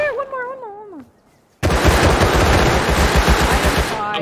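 In the video game Rust, a brief wavering vocal sound gives way, after a short near-silence, to a sudden loud burst of rapid automatic gunfire that rattles on continuously at close range until the end.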